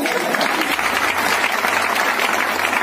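Audience at a motivational talk claps in a dense, steady burst of applause that stays even and loud throughout, with a voice faintly under it.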